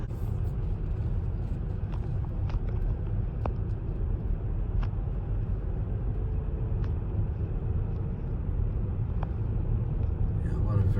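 A car driving around the small town of Leeds Point, a steady close engine and road rumble running throughout at an even level, with a few faint clicks above it.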